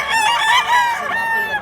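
A rooster crows once, loud and close, with a full drawn-out call lasting over a second on a Cebu farm.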